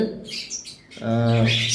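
Lovebirds in a bird shop give bright, rapid chirps up close, and a voice then takes over the second half.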